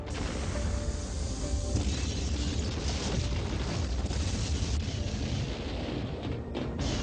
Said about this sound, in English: The fortress is destroying itself!